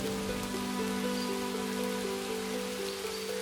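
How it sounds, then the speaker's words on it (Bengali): Rain falls in a cartoon scene as a steady hiss of drops, with a sustained musical tone underneath, heard alone. "এ কি, বৃষ্টি তো এখনো থামছে না"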